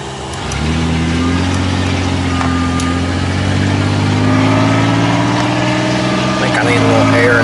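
A 1995 Chevy Lumina with a 4T60-E automatic transmission driving and shifting, a steady mid-pitched engine drone that rises in pitch and then drops at a gear change.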